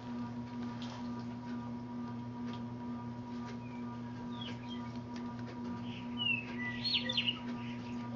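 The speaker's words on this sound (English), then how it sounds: "I hear the birds chirping." Faint songbird chirps in a springtime garden where tomato plants are being staked, a few thin distant calls growing livelier toward the end over a steady electrical hum.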